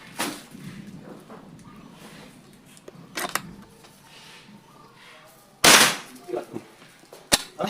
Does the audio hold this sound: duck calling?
no